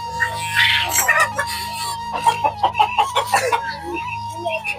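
Farm chickens cluck and call in a busy, overlapping stream of short bursts, close and fairly loud, with a steady low hum beneath them.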